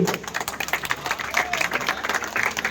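A crowd claps at a ceremony where a former MLA hands over financial aid, brisk uneven applause from many hands with a few voices mixed in.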